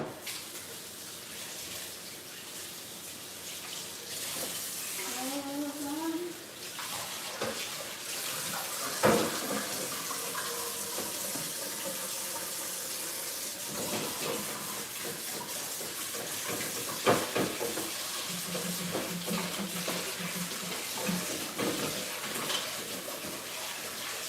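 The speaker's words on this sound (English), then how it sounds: "let me wash this bowl and be back" Tap water runs steadily into a sink while a bowl is rinsed under it, with brief clinks and shifts in the flow partway through, close by in a home kitchen during meal prep.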